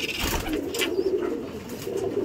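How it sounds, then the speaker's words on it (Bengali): Fulsera pigeons, including a seven-year-old bird, coo softly in a loft, a couple of brief low murmuring calls close by with faint rustling. "ফুলসেরা পায়রা দেখতে পাচ্ছেন।"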